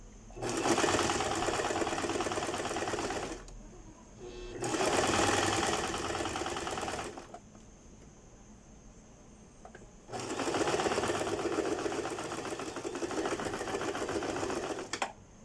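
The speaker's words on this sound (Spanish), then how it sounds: "Entonces cosemos igual a 1 centímetro." A sewing machine stitching a pocket seam at 1 cm runs in three loud, close bursts of rapid mechanical whirring, separated by short quiet pauses, with no voices.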